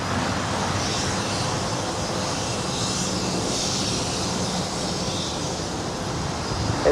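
Southwest Airlines jet in Maryland One livery arriving at LAX from Denver, a steady broadband engine roar and whoosh with no voices, fairly loud and sustained throughout.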